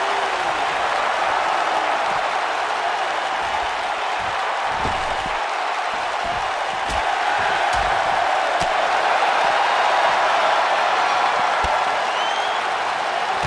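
A capacity arena crowd roars steadily in the WWE 2K19 wrestling game, a dense wash of cheering and applause running the whole time, with a few sharp slams and thuds cutting through.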